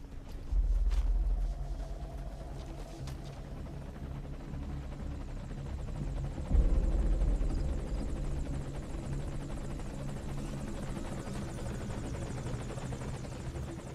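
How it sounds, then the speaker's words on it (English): Enemy helicopter in Metal Gear Solid V, a steady low rotor rumble that holds throughout, with a louder swell near the start and another around the middle as it closes in. "Sounds like there may be a helicopter incoming."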